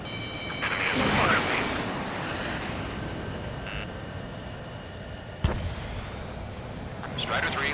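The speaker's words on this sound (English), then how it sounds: "Launching missile." An in-game missile launch from a fighter jet in Ace Combat 7 rumbles in a loud roaring whoosh with jet engine drone, followed by a sharp crack partway through, while game radio voices talk over it.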